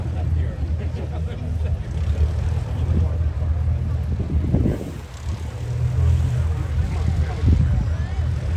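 A STOL aircraft's propeller engine drones steadily at an airshow competition at EAA AirVenture Oshkosh 2024, a loud continuous rumble that swells and eases, with people talking over it.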